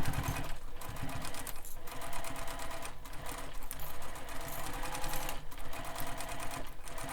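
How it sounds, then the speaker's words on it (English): A sewing machine runs a basting stitch through the layers of a Jack Sling Pack bag, a close, rapid mechanical whirring in bursts with brief pauses between runs. "So we're going to use a basting stitch. We're going to stitch this in place."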